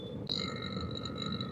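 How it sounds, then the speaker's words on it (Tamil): A vacuum pump runs on an air conditioner under service, a steady mechanical whine with constant tonal hum that jumps slightly louder and higher after a brief click, continuing alone and moderately close. "வேக்கம் ஆன் பண்ண போகிறோம்."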